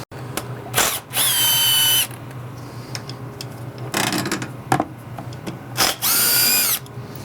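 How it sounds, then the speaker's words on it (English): Motorcycle bolts are spun out with a power tool and an 8mm socket in three loud, sustained whirring bursts, separated by softer clanks and handling noise. "we're going to remove these 1, 2, 3, 4, 5, 6 bolts with the 8mm socket"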